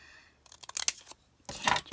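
Scissors snip apart paper restaurant tickets and guest checks in a few quick, close crisp cuts, with a short pause between bursts.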